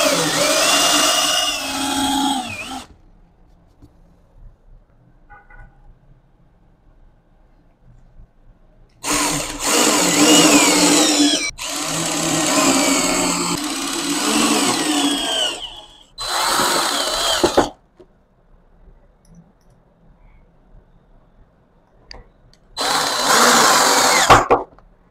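A power drill drives screws into melamine to mount drawer slides on a modern desk cabinet. The high whine comes in four close bursts, a long one and several short ones, separated by quiet gaps.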